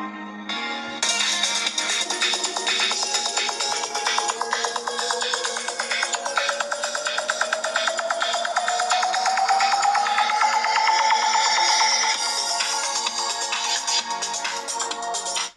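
A ringtone melody plays loudly through the single loudspeaker of a OnePlus Nord CE 2 5G phone, with a bright repeating pattern and a tone that sweeps slowly upward, steady and uninterrupted for about fifteen seconds.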